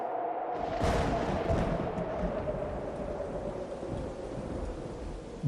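Rain falls steadily with a dense, even hiss and a low rumbling undertone, like a gentle storm settling in, continuous and fairly close with no voices over it.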